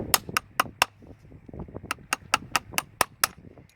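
A farrier drives horseshoe nails into a hoof with a hammer, giving a series of sharp metallic taps, about a dozen strikes in quick rhythmic bursts, close and clear with no talking.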